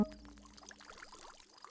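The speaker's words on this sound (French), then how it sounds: "je crains que quelqu'un ait laissé couler l'eau du bain" Bath water running from a tap in a cartoon scene, a soft, steady pouring trickle heard faintly and continuously throughout with no talking.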